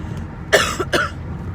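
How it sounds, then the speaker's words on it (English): Two quick, harsh coughs close to the mic, one after the other, with a quiet room behind them. "Hold on, I got a cough."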